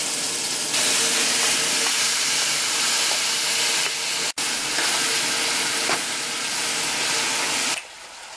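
Chicken pieces hit a hot pot of curry seasoned with curry powder for a coconut chicken curry, giving a loud, steady sizzle and hiss that runs almost unbroken for several seconds.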